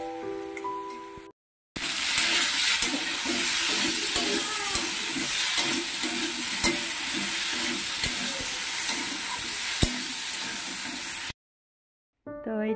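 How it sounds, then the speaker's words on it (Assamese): Leafy greens (saag) frying and being stirred in a pan in a home kitchen, a continuous hissing sizzle with scattered clicks of the utensil, after a short gap and before another. "এতিয়া শাক ভাজি আছোঁ"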